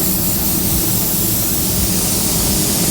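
Steady broadband rush of air blown across a freshly blended patch on a car bumper to dry the paint blender, a loud continuous hiss close to the microphone with no talking.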